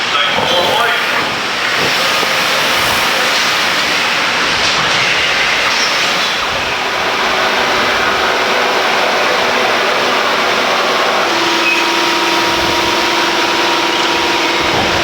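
A lawn mower reel cylinder whirs at about 1,000 RPM on a balancing machine, giving a loud, steady hissing spin with a hum that settles into a sustained tone near the end.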